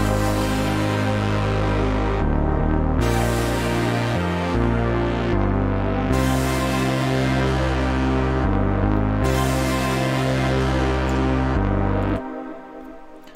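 A synth pad layered with a low C one-shot under a high-cut filter, in a trap beat. Sustained chords ride over shifting, throbbing bass notes before the music cuts off near the end.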